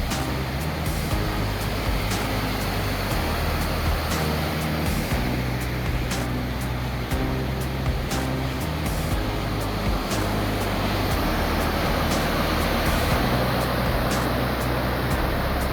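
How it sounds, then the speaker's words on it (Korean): A mountain valley stream swollen after heavy rain, where three streams merge and flow down, gives a steady, dense roar of rushing water close by, unbroken throughout with no voices. "전날 비가 많이 온 터라 계곡물이 시원하게 내려옵니다."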